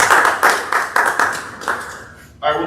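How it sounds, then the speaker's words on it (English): A small group at a morning Rotary Club meeting claps briefly, a short burst of distinct hand claps that thins and fades within a couple of seconds before a voice starts speaking. "give her a round of applause"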